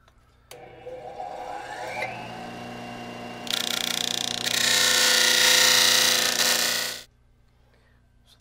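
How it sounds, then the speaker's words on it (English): A power tool grinds a piece of plastic down to size while building a homemade lightsaber, its motor whine rising in pitch, then a louder, harsher grinding burst before it stops abruptly. "So that I'm done grinding that down to size"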